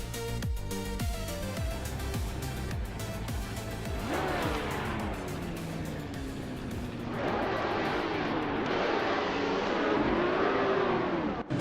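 Racing cars, including a classic 1967 Ford GT40, roar off the line at Bridgehampton, engines revving hard and climbing through gears as several cars sweep past close by, loud and continuous.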